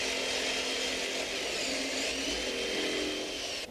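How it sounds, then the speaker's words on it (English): A saber saw cuts a notch in wood for a homemade boat part, a steady, loud, continuous motorized buzz running nearly unbroken throughout before stopping abruptly at the end. "Working slowly and carefully, cut the notch with a saber saw."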